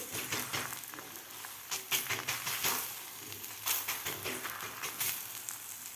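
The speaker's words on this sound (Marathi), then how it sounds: "हे सुद्धा आपल्याला दोन्ही साईडकडून व्यवस्थित आपल्याला खरपूस भाजून घ्यायचं आहे" Bajra thalipeeth flatbread loaded with leafy greens roasting on a hot pan, giving a steady soft sizzle with faint crackles and a few scraping touches throughout, moderately close and without talk.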